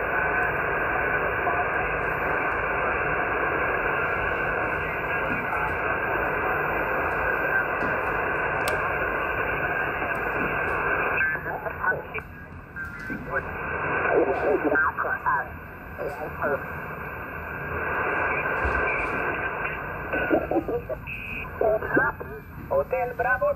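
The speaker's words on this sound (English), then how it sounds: "you can see it's pretty good on the amateur radio frequencies, even though it lacks any filtering or anything like that" Amateur radio signal received on a Sailor 5000 series marine MF/HF receiver, a steady band-limited hiss with a voice coming through, fading and crackling in and out over time, moderately loud and continuous.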